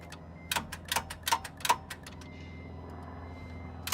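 A seized engine in a Honda Civic Si clicks as it is cranked, a quick run of sharp nearby ticks in an uneven rhythm that falls silent and then returns with one last click.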